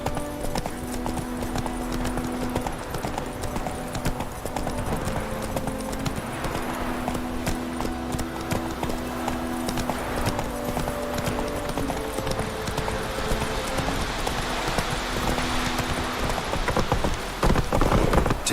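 Roach, a horse in The Witcher 3, trots with a steady, rhythmic clip-clop of hooves throughout, close and moderately loud, over a light outdoor ambience with faint rain-like patter.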